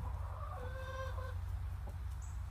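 Hens in a backyard coop cluck in a short burst of rising, nasal calls, close and clear over a low steady background rumble, with no talking.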